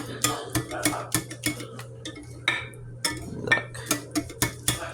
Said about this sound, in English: I'm gonna keep on stirring